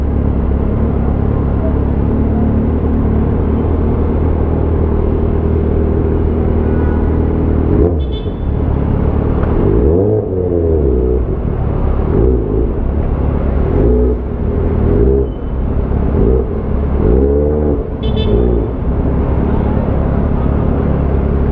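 Car traffic in a full parking area on a busy family day, with steady engine rumble, a few passing vehicles revving and whooshing by up close, and a brief toot.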